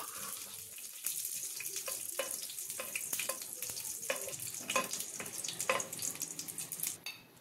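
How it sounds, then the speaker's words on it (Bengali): Cumin seeds, bay leaf and cinnamon fry in oil in a pan, a quiet crackling sizzle broken by repeated scraping and stirring strokes from a spoon. "এবার মশলাটা একটু ভালো করে ভেজে নেব"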